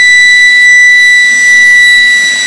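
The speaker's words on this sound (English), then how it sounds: "Lightning warning system just came on." An outdoor lightning warning siren sounds as a loud, continuous, unwavering electronic tone that holds steady throughout, with a faint low murmur underneath.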